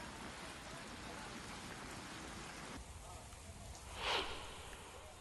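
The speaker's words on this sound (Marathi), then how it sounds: "पावसाचा जोर अजून कायम आहे" Heavy monsoon rain falling during flooding in the Dapoli area of Ratnagiri, a steady wash of downpour at moderate level with a brief louder swell near the end.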